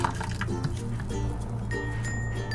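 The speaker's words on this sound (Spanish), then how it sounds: "voy a estar colocando 3 tazas de agua bien caliente en un tazón" Hot water poured into a bowl, a steady liquid splash and trickle with faint clinks, fairly quiet and heard alone.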